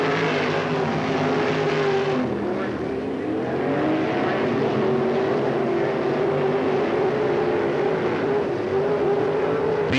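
Race cars roar around Hickory Speedway in 1995, a loud continuous drone of engines with a rising and falling pitch as they pass, crowd-like wash beneath, no clear voices.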